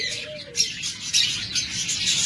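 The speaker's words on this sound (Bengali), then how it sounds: "yellow ring neck" Yellow ringneck parakeets at a bird seller's stall give several short, high chirps and squawks, scattered and fairly faint over a low background hum.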